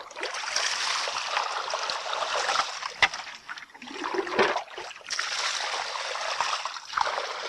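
Water washes steadily down a small creek bank during gold panning, a broadband rushing and trickling flow that stays close and fairly loud throughout, with a few brief splashes.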